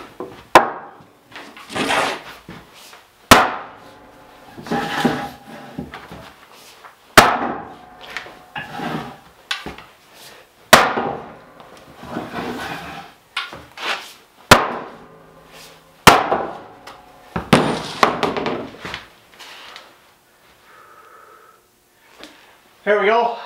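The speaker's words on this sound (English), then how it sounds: "swinging that little hammer trying to get them knocked down" Repeated hammer blows knocking on wood while building a workbench, sharp irregular strikes spaced a second or two apart, close by, with occasional breathing and voices between.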